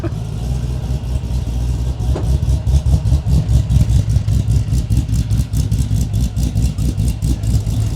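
A Mopar Hellcat 426 crate engine swapped into a Chrysler 300C SRT8 with a straight catback exhaust idles with a loud, lumpy, choppy rhythm from an aggressive cam, steady and close throughout.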